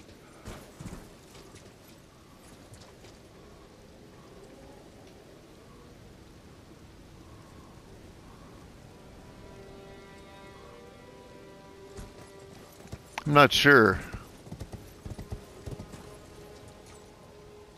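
A horse's hooves clip-clopping in the Elden Ring video game, a soft rhythmic plodding under faint rain and ambient game music, with a brief louder burst near the end and a voice speaking briefly.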